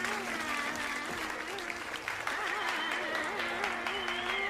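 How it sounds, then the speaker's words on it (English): An audience applauds a performance of Indian singing, a continuous wash of many hands clapping at a moderate level, with a sung or held tonal voice still running beneath it. "Why are they clapping for the singing"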